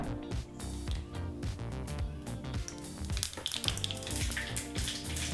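Mustard seeds spluttering in hot sunflower oil in a pan, a dense, close crackle of rapid pops and sizzling that continues throughout, with no talking.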